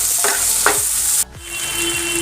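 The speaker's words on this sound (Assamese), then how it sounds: "তাৰপাছত এইখিনি ভালদৰে লৰাই দিব।" Dried fish tossed with chili powder, coriander and garam masala is stirred in a frying pan, giving a steady close sizzle with a few scraping strokes of the spatula and a brief pause partway through.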